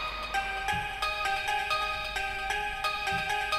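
A synth lead from the Avenger plugin's Factory 2 preset plays in a UK garage groove, with bright, bell-like stabbed notes repeating in a quick rhythmic pattern over a soft low pulse.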